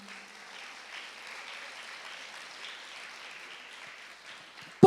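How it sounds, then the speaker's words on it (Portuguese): Soft, distant applause from a church congregation during a ministry class, a thin steady patter of clapping lasting several seconds before an abrupt loud sound at the very end. "Aplauda ao Senhor"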